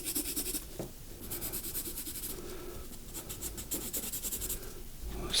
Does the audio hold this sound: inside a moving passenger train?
no